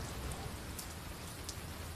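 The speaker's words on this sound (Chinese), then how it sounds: "下雨了" Steady rain falls in a dense, even hiss of drops with no pauses. It sounds close and constant, and no voices are present.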